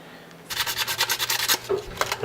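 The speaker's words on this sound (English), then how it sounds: "find some sandpaper and start sanding down just the edges of your shuriken" Rapid back-and-forth scratchy rubbing of sandpaper on a plexiglass edge, a dozen quick strokes in a steady rhythm, close up, after a brief quiet start.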